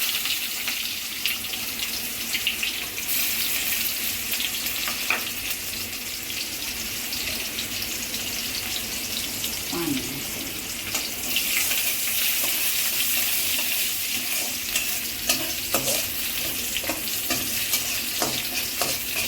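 Chopped onion and garlic fry with panch phoron in hot oil, a dense, close sizzle that swells louder partway through, with a few stirring scrapes and clinks, no talk.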